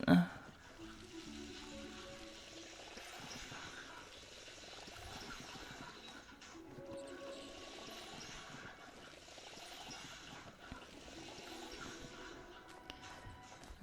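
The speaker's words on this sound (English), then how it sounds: "So while I'm here, I might as well just give them all a quick water." Water trickles and pours quietly and steadily while plants in a garden plot are given a quick watering, with a brief louder splash at the start.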